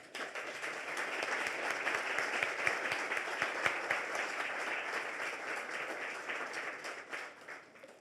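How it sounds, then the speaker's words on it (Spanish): Steady applause from a seated audience at a women's Masonic lodge gathering in Chile, fairly distant and even, lasting several seconds and tapering off at the end. "Un aplauso para ella."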